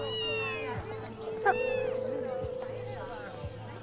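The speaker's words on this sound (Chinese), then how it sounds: "哥，送我这个吧，我想要这只小猫。" A kitten meows repeatedly in a shop, several drawn-out plaintive cries close by, with people talking around it.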